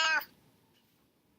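A house cat gives a single short, close meow at the start, then falls quiet with only faint room tone.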